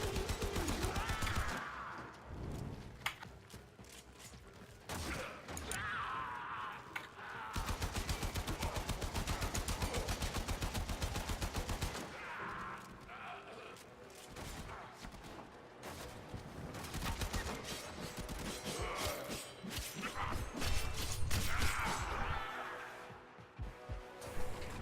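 Bursts of gunfire from the shooter game Warframe, long sustained rapid volleys and shorter runs of shots, loud and dense, broken by brief pauses with faint game sounds.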